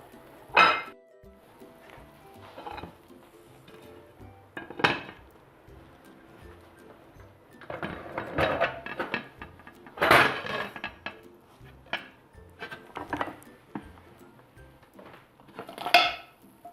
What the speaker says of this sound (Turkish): Bir tabak yardımıyla böreğimi ters çevireceğim